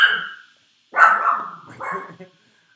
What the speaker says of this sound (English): You don't have to bark at everything that moves.